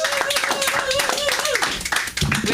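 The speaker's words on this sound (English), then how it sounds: "Give him a round of applause for Samantha." Comedy club audience clapping and applauding, brisk and lively, with a voice talking over it and a tonal hum running beneath.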